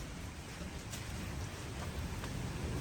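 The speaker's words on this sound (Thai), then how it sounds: "กุฏิชั้นสองนะนี่ฝนยังเข้าได้เลย" Heavy storm rain pours down at night in Luang Prabang, Laos, heard from the second floor of a monastery dwelling, in a dense, steady hiss with a faint low rumble beneath it.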